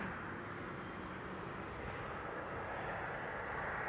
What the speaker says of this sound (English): I'm starting to hear the engines.